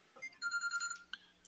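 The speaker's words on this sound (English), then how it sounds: "My phone was ringing." A phone ringtone chirps briefly with a bright electronic melody, fairly faint and close, over a low steady hum in a quiet room.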